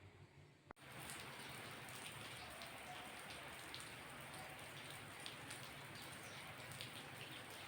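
Steady rain pours down at night in a dense, even patter that starts after a brief sharp click and continues unbroken and close, with no voices.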